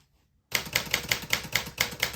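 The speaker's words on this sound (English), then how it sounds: "then each time you type, it raises the ribbon up a little bit more so that it hits the red part of the ribbon" Typing on a 1959 Smith Corona Sterling manual typewriter: after a brief pause, a run of about nine crisp, loud key strikes in a steady quick rhythm, each a sharp metallic clack close by, with no talking.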